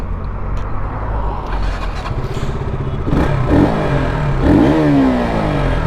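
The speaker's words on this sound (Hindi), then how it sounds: "डायरेक्टली बैठते हैं बाइक पे और स्टार्ट कर देते हैं अपनी ड्रैग को।" Motorcycles at a drag race between a 2026 Pulsar RS200, a 2026 MT-15 and a KTM RC200, engines running loud and close with rising revs and some clatter, a sharp climbing rev near the end.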